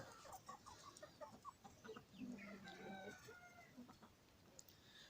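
Rare-breed poultry, including a pure Brahma, cluck and call close by in short, irregular bursts throughout, with one louder crow-like call in the middle and faint background noise.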